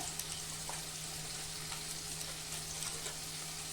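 Spices frying in a kadai pan for kadai paneer, a steady close sizzle with faint crackles running throughout, no voices.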